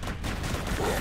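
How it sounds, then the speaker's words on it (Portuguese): Enemy soldiers firing guns in the side-scrolling action game Broforce, a dense, continuous burst of overlapping shots and impacts that fills the whole second at steady loudness. "O cara já tá atirando ali."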